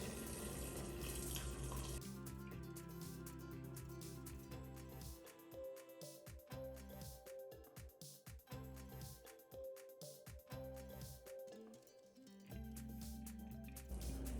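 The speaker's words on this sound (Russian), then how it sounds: "наливайте обязательно кипяток" Boiling water poured over rice for plov, a continuous close splashing pour that thins into sputtering gurgles midway before running strongly again at the end.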